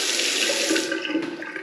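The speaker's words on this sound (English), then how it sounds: "We've got the water plugged in now up here, so we've got running water" Water runs steadily from a newly plumbed tap in a house under renovation, a close, continuous splashing flow with no talk.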